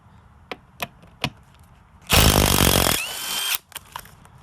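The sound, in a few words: power tool removing T45 bolts from Mustang seat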